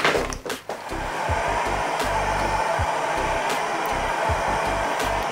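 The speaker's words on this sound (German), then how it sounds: "Natürlich aufpassen, dass man das Heißluftgebläse bzw. den Föhn nicht zu heiß einstellt" A hot air gun blows a steady loud whooshing stream of air while heating the case of a Samsung Galaxy A40 phone, starting after a few brief knocks and continuing without pause.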